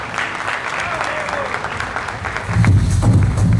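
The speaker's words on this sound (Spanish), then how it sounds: "un aplauso para todas ustedes." Audience at a carnival pageant candidate presentation breaks into applause, a steady wash of clapping that swells louder toward the end, with voices audible underneath.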